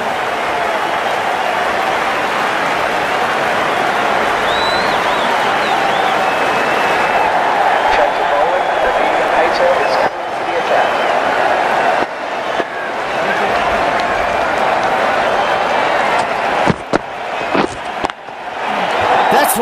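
Stadium crowd in the cricket video game Ashes Cricket 19 keeps up a steady, loud roar of applause and noise throughout, with a few sharp thuds and bursts near the end.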